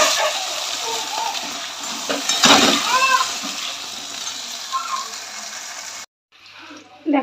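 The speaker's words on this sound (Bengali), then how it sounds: "এখানে সবজিগুলো একটু ভেজে নেব।" Vegetables fry in hot oil in a home kitchen while khichuri is being made, giving a steady, loud sizzling hiss with occasional crackles and spatters, before a short drop near the end.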